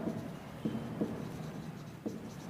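Faint scratching of pen on paper, with a few short strokes spaced unevenly across a quiet, hushed background and no speech.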